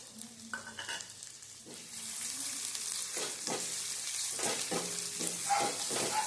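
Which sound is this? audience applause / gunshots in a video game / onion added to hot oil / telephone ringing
onion added to hot oil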